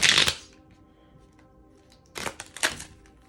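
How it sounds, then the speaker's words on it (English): A deck of tarot cards being shuffled up close, one quick riffle at the start, then a pause, then two more brisk bursts of shuffling near the end. "That was a horrible shuffle."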